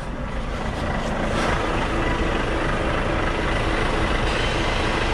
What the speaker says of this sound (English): just slowly connect the trailer.